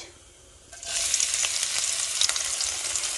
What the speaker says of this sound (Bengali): পেঁয়াজটাকে সুন্দরভাবে ভাজি করে নিব।